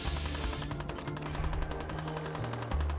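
Gunfire in the video game Fallout 4: rapid, somewhat distant bursts of automatic shots rattle steadily beneath game music.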